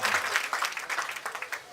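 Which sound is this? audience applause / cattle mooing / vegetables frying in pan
audience applause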